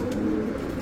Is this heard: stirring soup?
no